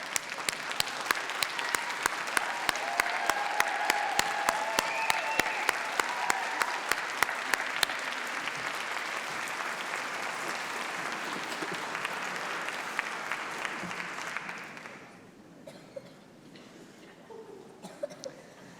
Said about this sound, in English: So if our graduates can just stand up and give their friends and family a round of applause.